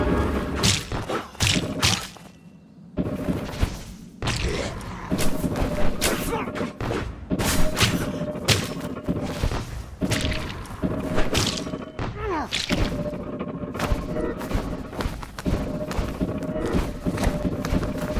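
Cannonball impacts in the game Legacy of Kain: Ascendance land as a series of heavy thuds and whip-like cracks amid continuous game action, with a person talking over them.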